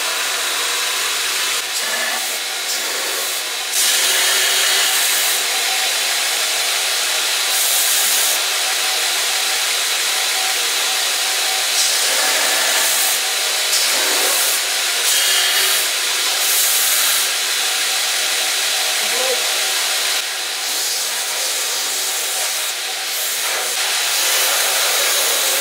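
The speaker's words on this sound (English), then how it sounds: "I'll get on my grinder now," Belt grinder shaping stabilised wood knife handles, including bog oak, gives a steady loud high-pitched hiss and whine that runs throughout, dipping and rising slightly as the handles are pressed against the belt.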